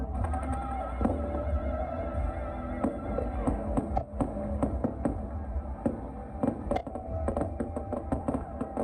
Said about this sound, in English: And the party ends with the fireworks show.